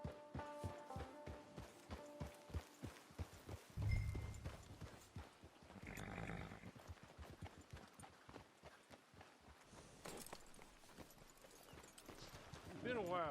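Horse hooves clip-clop in a regular rhythm in Red Dead Redemption 2, moderately close, with a snort and a short rumble partway through as game voices talk over the steady footfalls.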